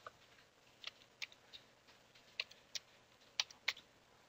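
Computer keyboard typing a username at a login prompt, sparse individual key clicks spread out with pauses, faint and close, no talk.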